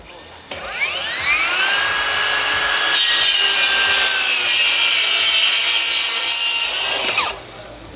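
A Ricota 25-volt cordless circular saw whines up loudly and bites through wood in one sustained cut of several seconds, then spins down abruptly.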